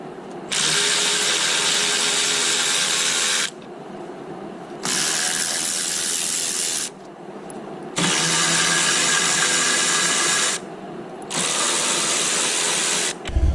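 Power tool whirring in long loud bursts while bolts are backed out of a 3.0 TDI engine during coolant thermostat, oil filter housing and water pump replacement, four runs separated by short pauses, close and alone.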